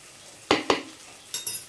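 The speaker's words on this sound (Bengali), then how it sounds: "দিয়ে মশলাটা ভেজে তোমাদেরকে দেখাবো" Spice paste with red chilli powder and ground green chilli fries in a pan for doi begun. Two quick stirring scrapes bring bursts of sizzle, followed by two more later, all close and alone.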